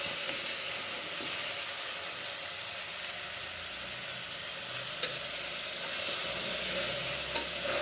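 Vegetable pieces for sambar fry in a pan with a constant moderate sizzle and hiss. An occasional faint utensil tap breaks through, and no one speaks.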